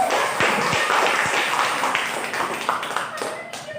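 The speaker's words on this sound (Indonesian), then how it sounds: "terima kasih, tepuk tangan untuk kelompok" Students clap for a group in a vocational high school classroom, a loose burst of hands with a few sharp distinct claps that thins out toward the end, with murmuring voices underneath.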